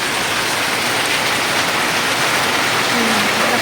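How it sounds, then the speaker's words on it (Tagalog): Heavy rain pours steadily, a dense continuous hiss filling the scene without letup. "tignan nyo guys, ang lakas ng ulan"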